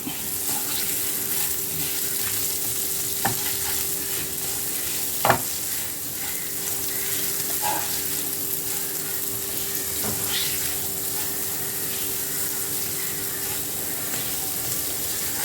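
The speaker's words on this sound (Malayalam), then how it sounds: "കൂടെ തന്നെ 1/2 ടീസ്പൂൺ ചില്ലി ഫ്ലേക്സ്, ഉപ്പ് ചേർത്ത് കൊടുക്കാം. വീണ്ടും നമുക്കൊന്ന് ഇളക്കി കൊടുക്കാം." Chilli flakes and salt stirred into a mixture frying in a pan, a steady close sizzle with occasional clinks and scrapes of the spoon.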